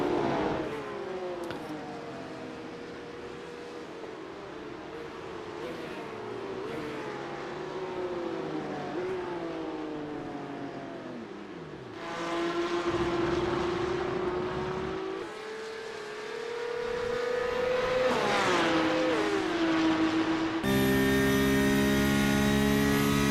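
A Porsche Supercup race car in a sim racing game lapping Zandvoort, its engine whining steadily through the gears with pitch swooping up and down through upshifts and braking, loud and continuous.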